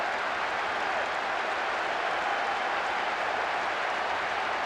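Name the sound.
football stadium crowd in the video game PES 6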